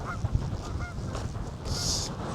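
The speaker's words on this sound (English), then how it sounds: "Geese don't know what to do. I know, they all fly off." Several geese honk at a distance over a windy outdoor background at a reservoir, their calls scattered and overlapping as they fly off, before a brief higher squawk near the end.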